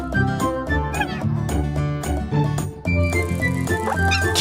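A cartoon kitten gives short, high meows while playing with a toy mouse, set against loud, bright background music with sharp cuts.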